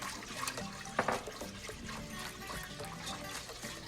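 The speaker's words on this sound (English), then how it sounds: "I'm gonna go in with about a cup of heavy cream" About a cup of heavy cream pours into a pan of macaroni and cheese sauce with a continuous close, gurgling trickle.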